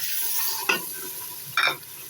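Mutton sizzles in a pan as onion paste is added, a steady close hiss broken by two brief wet stirring scrapes.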